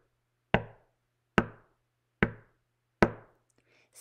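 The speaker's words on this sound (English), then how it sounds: "Then he heard seven knocks." Four firm knocks rap on a wooden door at a steady, even pace, close and distinct, followed by a faint rustle at the end.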